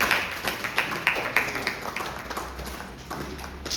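Audience at a religious talk clapping, a scattered run of claps from a crowd, moderately close and fading slightly toward the end.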